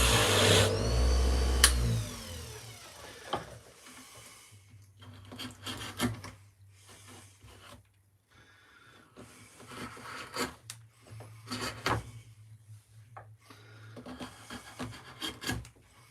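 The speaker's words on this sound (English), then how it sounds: "makes a lot of difference, doesn't it, the sharpener?" A woodcarving knife is drawn over a sharpener in repeated rasping, rubbing strokes, close and fairly quiet, with a steady low hum running underneath and a louder burst at the start.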